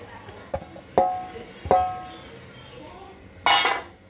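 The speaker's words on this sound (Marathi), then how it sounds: "आता आपण कुकर मध्ये हे आळू ट्रान्सफर करणार आहोत" Colocasia leaves are moved into a metal pressure cooker, producing a few sharp, ringing clanks and clinks spaced over several seconds against a quiet kitchen background.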